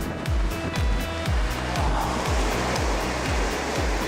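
Sea waves break against rocks along a coastal walking path near a lighthouse and harbour in Gangneung, a steady loud rush of surf and spray running alone throughout.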